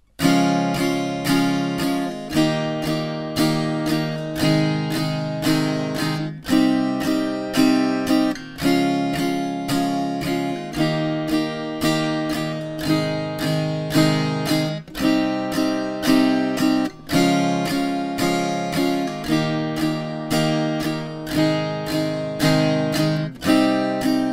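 An acoustic guitar plays the chorus of a song with four even down strums on each chord, loud and close, in a steady repeating rhythm with no voice over it.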